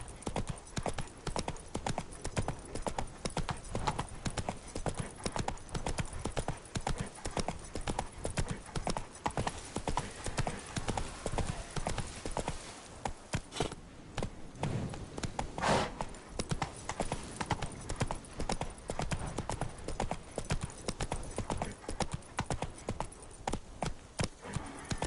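Roach, a horse in the video game The Witcher 3: Wild Hunt, gallops in a fast, unbroken run of hoof beats that stays close and steady for the whole stretch, with no speech over it.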